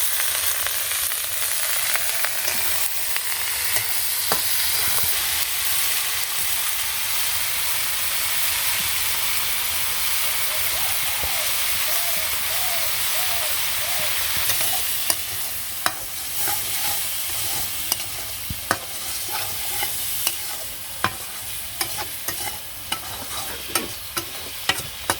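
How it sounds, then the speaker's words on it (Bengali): Flat beans with their seeds frying with chopped onion in a village kitchen pan, a steady close hiss and sizzle that grows choppier in the second half with sharp clicks of stirring, no one speaking. "এই যে বিচি সহ সিম ভাজি করে"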